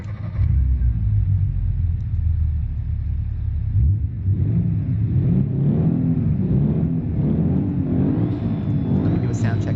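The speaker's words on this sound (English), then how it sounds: "So you'll get to hear the V6 for the first time, theoretically." A V6 car engine idles with a steady low rumble that swells slightly as it revs, heard at a race week event while people talk close by over it.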